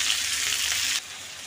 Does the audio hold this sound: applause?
no